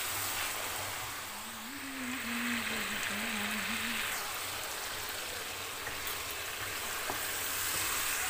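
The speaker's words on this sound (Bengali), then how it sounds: "তো আমি এখানে পেঁয়াজটা লাল করে ভেজে নিছি, নিয়ে সব মশলা দিয়ে মশলাটা ভালোভাবে একটু কষাই নিব।" Onion browned red in a pan with added spices being sautéed for a fish curry gives a soft, continuous sizzle and crackle close by, with a low wavering hum in the background for a few seconds.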